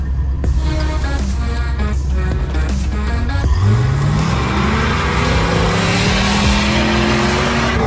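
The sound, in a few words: Jeep V8 engine revving climbing a snowy hill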